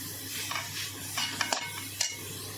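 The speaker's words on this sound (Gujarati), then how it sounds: "જુઓ થોડું ઘી રેડી અને આ રીતે શેકી લઈશું આપણે" Grated carrot roasting in ghee in a pan over a medium-low flame for carrot halwa: a soft, steady sizzle broken by a few sharp scraping clicks as the mixture is stirred.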